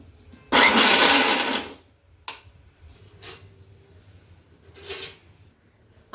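A mixer grinder whirs loudly through one long burst while blending a chutney, followed by several shorter pulses separated by quiet gaps.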